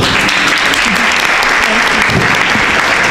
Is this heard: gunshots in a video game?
no